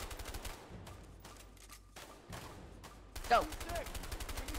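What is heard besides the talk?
gunfire in the video game A Way Out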